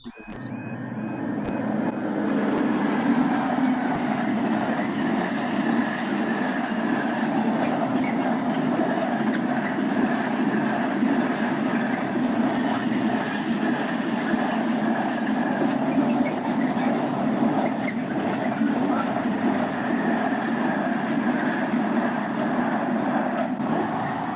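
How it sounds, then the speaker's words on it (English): A long freight train of 50 containers rumbles past nearby on the Cambridge to Newmarket line, a steady heavy roar of wheels and wagons with occasional clanks, sustained for the whole stretch. "Freight train with 50 containers."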